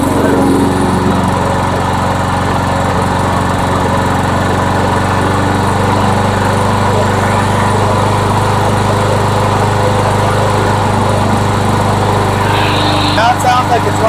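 An old, worn lawnmower engine runs loud and steady after a speed adjustment, a continuous close buzzing drone with slight unevenness.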